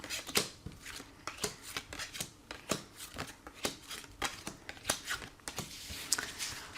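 Oracle cards are shuffled by hand for a card reading, a rapid series of soft crisp riffling slaps in an irregular rhythm, close and fairly quiet with no talking.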